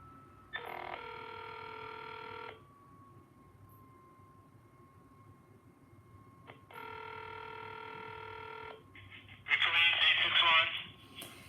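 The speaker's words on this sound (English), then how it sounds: "So I'm gonna give them a phone call because I want to give them a huge compliment." A telephone call is placed, with two long ringback tones separated by a quiet line hum, followed by a burst of garbled sound as the call connects.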